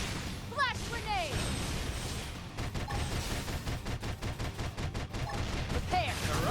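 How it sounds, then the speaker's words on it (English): Gunfire during a Xenoblade Chronicles X battle, with rapid, evenly spaced shots that rattle steadily through the middle, mixed with whooshing effects and sitting beneath talk. "Now, topple them with some gunfire."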